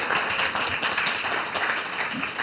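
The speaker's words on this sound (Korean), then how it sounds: "Please give them a warm round of applause." An audience applauds team leaders called up on stage at a church closing service, a steady, dense round of many hands clapping, moderately loud and continuous.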